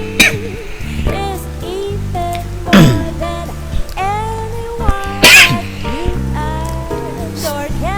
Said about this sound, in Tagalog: grabe itong ubo na to, ayaw umalis